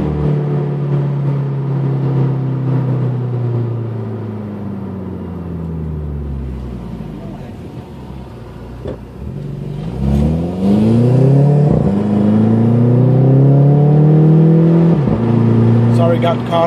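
A car with a tuned ECU blips its engine on a late downshift: a loud, close rumbling idle rises into sharp sweeping revs that climb and fall twice near the end.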